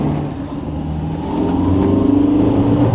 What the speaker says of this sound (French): le turbo, écoute, il fait un bruit.